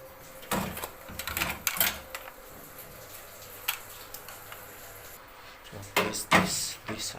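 Plastic parts are unclipped from a washing machine during disassembly, giving a series of sharp clicks and snaps spaced irregularly over a quiet background.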